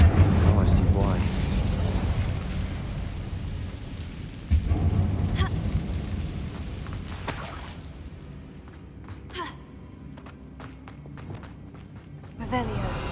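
A fire spell cast in the Hogwarts Legacy video game inside an abandoned mine, a sudden burst at mid-clip over a loud rumbling, crackling game soundscape, with a voice speaking.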